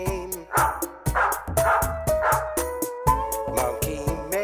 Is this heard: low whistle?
no